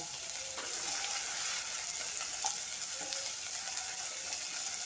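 Chopped large onion frying in a pan, a steady soft sizzle with faint occasional clinks of stirring, close and quiet with no talk.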